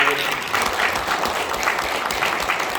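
An audience gives a steady round of applause at a breakfast forum after a retired army general's security lecture, dense and sustained, filling the room evenly throughout.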